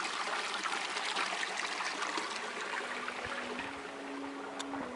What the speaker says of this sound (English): A natural spring without any pump, and this water is used in our field.